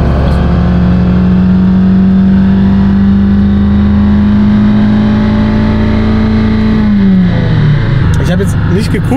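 A Fiat Panda 100HP engine held at full throttle on a dynamometer, a loud sustained drone at a steady high pitch that drops away near the end as the revs fall.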